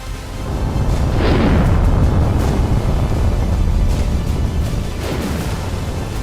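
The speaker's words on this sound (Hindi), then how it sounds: "क्रूज मिसाइलों को कोरियाई प्रायद्वीप के पश्चिमी सागर की ओर दागा गया" North Korean cruise missile launched toward the sea west of the Korean peninsula, a loud, sustained roaring rush that swells in the first two seconds and then rumbles on steadily without speech.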